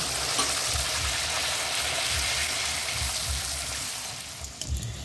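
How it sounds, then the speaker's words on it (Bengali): Luchi, a wheat-flour flatbread, fries in hot oil, giving a loud, continuous bubbling sizzle close by that eases slightly near the end, with a few soft clinks. "আটা দিয়ে একটুখানি লুচি ভেজে নিয়ে মেয়েকেও দিয়ে দেবো"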